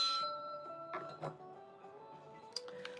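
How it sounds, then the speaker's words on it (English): A small handheld bell rings out once with a clear sustained tone that slowly decays, followed by a few lighter clinks and a brief second strike near the end, close and alone in a quiet room. "I'm going to ring this bell to call in my ancestors, my spirit guides"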